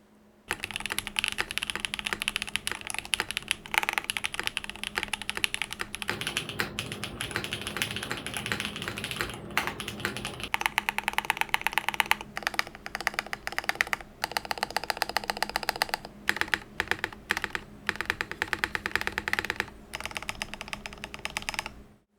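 A mechanical keyboard with Kill BCP switches on an aluminium full plate, TXAP stabilizers and GMK Fundamentals keycaps is typed on steadily and close up, a dense stream of crisp key clacks with brief pauses.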